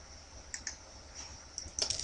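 Soft, quiet computer keyboard key presses during photo editing, a few isolated clicks followed by a quick cluster of taps at the end.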